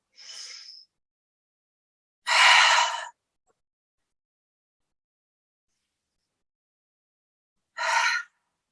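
Deep yoga breathing: a short soft inhale, a long loud exhaling breath, a long silent pause, then another forceful breath, all close and with no talking.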